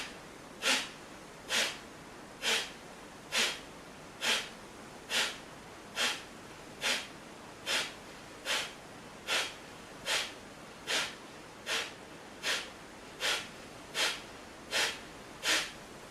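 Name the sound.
breathing exercise, forceful breaths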